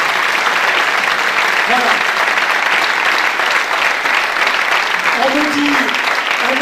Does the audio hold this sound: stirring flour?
no